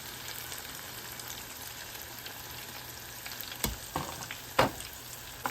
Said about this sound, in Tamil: கத்தரிக்காய் இதை எண்ணெயில் பொரிக்க வேணும்